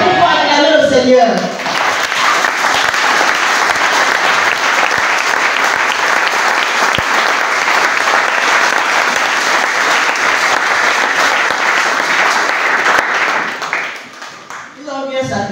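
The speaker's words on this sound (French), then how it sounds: "Il faut acclamer le Seigneur." A church congregation applauding to acclaim the Lord at a Sunday service, sustained loud clapping from many hands lasting over ten seconds, ending after voices briefly rise before and after it.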